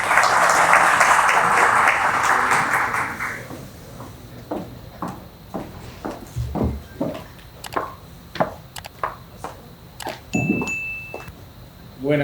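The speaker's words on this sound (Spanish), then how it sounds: "Les recibimos con sus aplausos." Dense clapping from an audience at an event at the Supreme Court of Justice in the Dominican Republic fills the first few seconds, then fades into scattered footsteps or knocks and a brief high tone.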